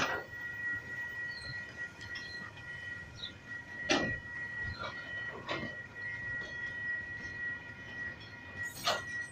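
A log train hauled by a combination of Dc and Dfb diesel locomotives passes near Trentham, heard at a moderate distance as a steady rumble of wagons with clicking wheel beats and a few sharp squeals, no talk.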